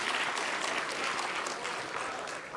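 Applause from an audience at a men's parliament event, a steady wash of many hands clapping at moderate, somewhat distant level throughout.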